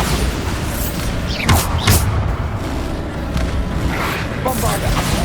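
Bombarda explosion spells go off in Hogwarts Legacy as deep booms and thuds amid busy combat effects, with shouted spell incantations over them.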